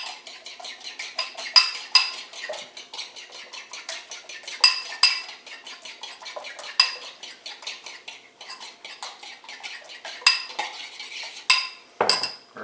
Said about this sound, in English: The whisk is quieter. That's why I use it. But get this pretty busted up here.